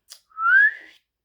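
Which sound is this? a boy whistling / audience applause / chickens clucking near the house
a boy whistling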